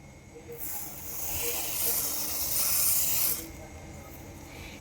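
Fifty grams of mustard seeds hit hot oil for mango pickle, giving a steady, bright sizzling hiss that swells for about three seconds and then drops away to quiet.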